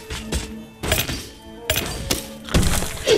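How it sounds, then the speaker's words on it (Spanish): A pickaxe strikes ordinary rock in the SteamWorld Dig video game: four or five crunchy, breaking thunks arrive at an irregular pace, loud and close, with no speech. "ahora vuelvo a picar la piedra normal"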